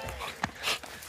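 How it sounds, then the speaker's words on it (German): Guard dogs give a short bark and a whimpering yip, brief and fairly close, amid a low background murmur. "Ja, aber ich sehe auch zwei bissige Hundis."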